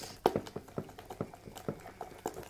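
Cake batter for a chocolate cake whisked by hand in a bowl, a steady run of soft wet taps and sloshes about three or four per second, close and quiet with no talking.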